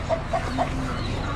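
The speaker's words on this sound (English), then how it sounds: "Buff Orpingtons." Buff Orpington hens at an Amish animal auction, giving a few short soft clucks in a steady murmur of background barn noise.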